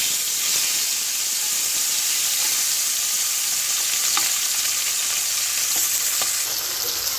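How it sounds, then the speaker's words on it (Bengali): Puti fish sizzling and frying steadily in hot oil, a continuous close crackling hiss with a few faint clinks of a utensil, no voices. "তেল গরম হয়ে গেছে, এখন আমি মাছগুলি সুন্দরভাবে ভেজে নিব।"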